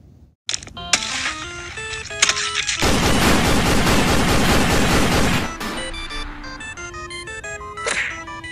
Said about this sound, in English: There's more firing at us.